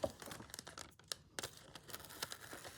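Scissors cut a small piece of fabric for slow stitching, the crisp snips and crinkling of cloth close by and fairly soft, with no one talking.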